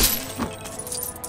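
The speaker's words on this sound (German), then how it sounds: "Blaue Münze!" Collecting a blue coin in the video game Lego Jurassic World gives a bright, glassy chime that jingles briefly at the start, then fades under a busy game soundscape.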